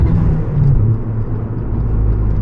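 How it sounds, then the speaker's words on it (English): Inside a moving Fiat 500 Abarth fitted with a big turbo, a steady engine and turbo rumble drones loudly throughout the drive, with no voices. "It's all engine and turbo sound."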